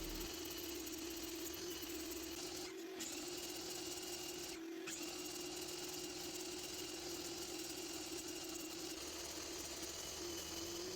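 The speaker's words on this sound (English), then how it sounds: "I'm trying to just adjust my miter saw a little bit at a time to center the blade so that I can cut a cove across this whole board" A miter saw runs steadily while cutting a cove across a wooden board, giving a constant loud motor whine with a high buzzing edge and two brief dips in the sound near the middle.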